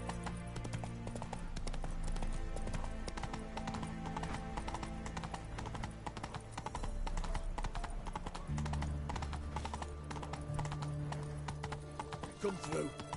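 Roach the horse's hooves clip-clop in The Witcher 3, a steady rhythmic trot heard close, under game music and with a voice talking over it at times.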